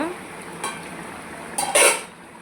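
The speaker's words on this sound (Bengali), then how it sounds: "এবার আমি এই দেখুন ঢাকা খুলে দেখে নেব" Pot lid lifted off a simmering cauliflower and potato curry, a brief metallic clatter and scrape near the end over a soft background bubbling, close by.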